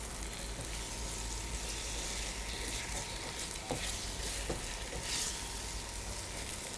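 Seasoned, salted rice (dabu shinkafa) frying in a pan over a fire, giving a steady dense sizzle with scattered scraping stir strokes, close and continuous, no talking.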